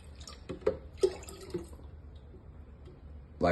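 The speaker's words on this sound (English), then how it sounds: "This is the 800 mils of starter fluid. So then with this starter fluid," Kombucha starter fluid poured into a clean stainless steel bowl holding a SCOBY, heard as a few soft splashes and drips close by, quiet overall with a brief louder slosh at the end.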